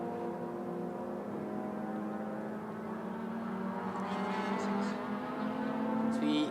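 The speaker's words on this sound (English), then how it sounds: "As the cars head into their final lap." Race car engines at a Malaysia Championship Series race on the final lap, a steady droning, slightly rising drone at a distance under a commentator's voice.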